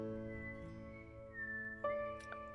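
Small, soft whistles sound as steady high tones, one gliding upward partway through, with a couple of brief chirps near the end and no talking.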